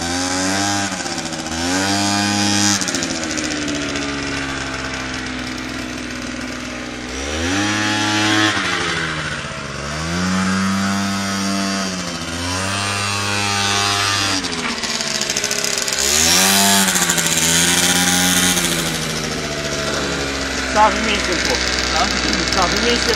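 A Gilera Runner scooter engine revs hard several times, its buzzing pitch climbing and falling in repeated bursts, close and loud throughout.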